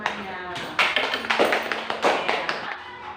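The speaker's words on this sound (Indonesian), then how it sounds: "Tepuk tangan untuk temannya." Scattered classroom clapping from a group of pupils applauding a classmate, uneven and moderately loud, with a voice talking over it.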